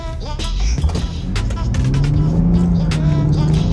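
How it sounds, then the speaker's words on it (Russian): A city bus passes by on a US street, with a close, loud engine drone rising into a humming whine amid some clinks and road noise. "Городской автобус вот идет"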